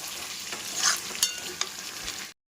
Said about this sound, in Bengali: এবার জল ঢেলে দেবো।